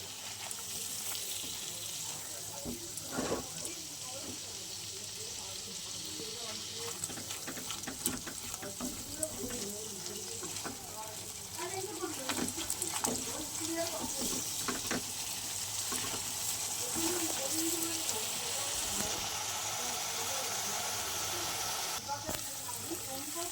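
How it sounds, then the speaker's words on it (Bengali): A spice paste of ground cumin, salt, turmeric and chilli powder fries in a pan for a fish curry, a continuous close sizzle with scattered stirring scrapes that grows slightly louder toward the end. "চলো এবার সুন্দর করে মশলাটা ভেজে নিই, মানে কষিয়ে নিই।"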